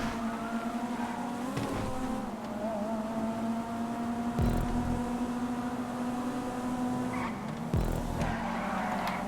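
Car oversteering and skidding in the racing game GTA 5, with a steady engine drone and sustained tire squeal, punctuated by a couple of sharper bumps and scrapes near the middle and end.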